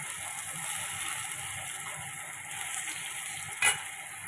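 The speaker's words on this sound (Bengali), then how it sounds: "আর এই যে এখানে কুমড়ো ভাজা বসিয়ে দিয়েছি" Pumpkin slices fry in a pan in a home kitchen, giving a steady, fairly quiet sizzle that runs throughout, with one brief clink near the end and no voices.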